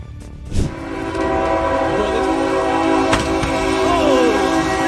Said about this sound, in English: With a deafening roar, the train plowed into the helpless car